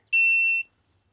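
A single electronic beep from a shot timer during an airsoft shooting drill, one steady, fairly loud high tone lasting about half a second before cutting off cleanly into near silence.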